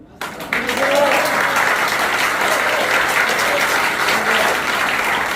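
A large crowd applauding and cheering loudly at a political rally in Seoul, sustained dense clapping that starts suddenly and continues throughout, with shouts mixed in.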